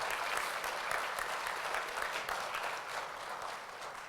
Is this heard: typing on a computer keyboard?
no